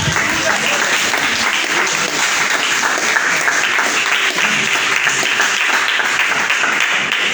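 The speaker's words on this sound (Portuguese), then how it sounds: "Dê uma salva de palmas para Jesus bem forte" Loud, steady applause from a congregation in a Pentecostal church, dense clapping that holds without a break for several seconds.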